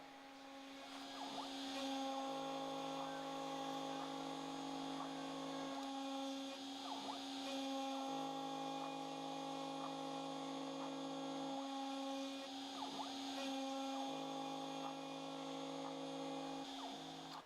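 A CNC router hums and whines steadily at close range, its drilling pitch shifting in repeated cycles as it peck-drills holes through aluminum.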